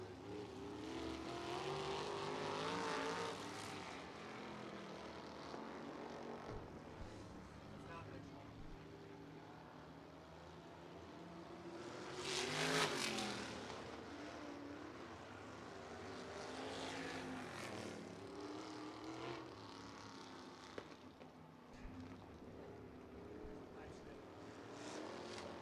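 Vintage race cars roar around the Lawrenceburg racetrack, their engines swelling as cars pass at around three and thirteen seconds, then receding into a distant, continuous drone.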